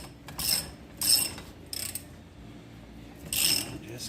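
Hand ratchet cranking a spring compressor on a Can-Am Outlander XT shock, giving four short bursts of rapid metallic clicking separated by brief pauses, close and fairly loud.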